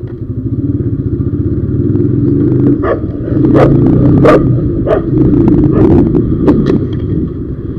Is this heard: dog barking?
yes